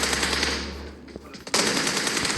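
Automatic gunfire in a team-based online shooting video game, a loud continuous burst that eases off for a moment mid-clip before resuming at full strength.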